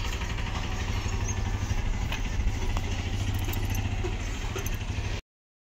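A motorcycle engine idles close by with a steady low throbbing rumble and light mechanical rattles, running continuously before cutting off abruptly.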